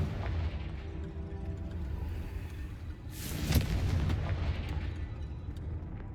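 A Confringo fire spell bursting in the Hogwarts game, one loud whooshing blast with a rumbling tail over steady low background ambience.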